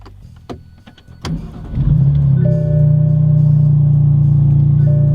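A BMW whose wiring was chewed by an animal cranks and catches, then settles into a steady, close engine idle with a constant low hum and a faint higher whine, with no one speaking.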